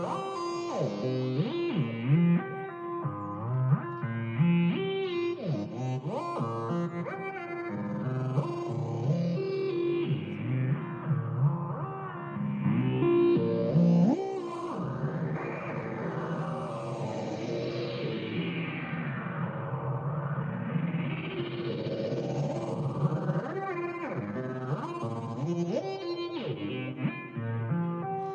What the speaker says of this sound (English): It has a VCA. What you're hearing is that VCA.